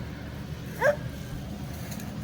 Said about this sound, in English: Max, he's a good dog, but he wants to bark at the tractors